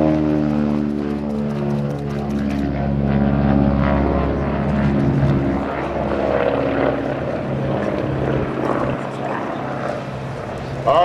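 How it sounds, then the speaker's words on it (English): A Beech 18 twin radial-engine airplane makes a low photo pass at an air show, its droning propeller roar swelling as it approaches and slowly fading as it moves away, loud and steady throughout. "He'll be coming by for a photo pass."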